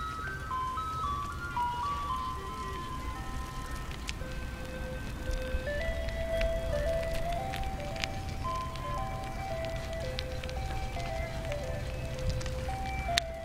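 A neighbourhood ice cream truck plays a tinkling melody that is not the usual ice cream truck tune, moderately distant over steady outdoor background noise, with a person talking faintly.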